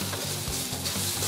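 Cabbage stews in a pan and gets stirred, a steady close sizzle and bubble with soft scraping strokes layered over it and no break in the sound.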